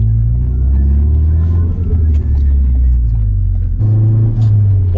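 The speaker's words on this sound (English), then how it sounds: "Full turbo back exhaust." A car fitted with a CPE full turbo-back exhaust drives along, its deep, steady exhaust rumble loud and continuous throughout, swelling slightly near the end, with no talk over it.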